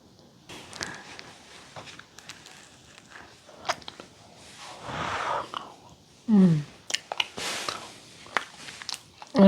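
Someone bites into and chews fried potato balls near the microphone, with soft crunching bites and mouth sounds, brief rustles, and a louder thump partway through.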